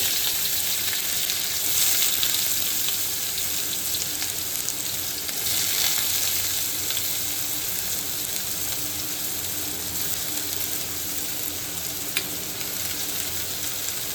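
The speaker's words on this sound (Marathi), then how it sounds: "आता कांदा व्यवस्थित परतून घ्यायचा थोडा वेळ, म्हणजे रंग चेंज होईपर्यंत कांद्याचा" Onion sautéing in a pan for a traditional Konkani kavali wild-vegetable dish, with a loud, steady frying hiss and occasional soft stirring scrapes throughout.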